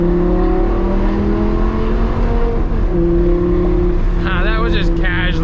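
A modded Audi R8 V10 with a loud exhaust accelerates gently, its steady engine drone rising into a climbing whine near the end, heard from inside the car.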